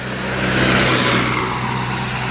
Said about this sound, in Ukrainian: Ось дивіться, які тут маршрутки.